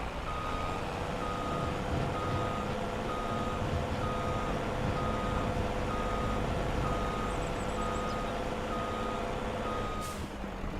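A truck in the Farming Simulator 25 video game sounds a steady, evenly spaced reversing beep for the whole stretch, over a constant loud engine drone.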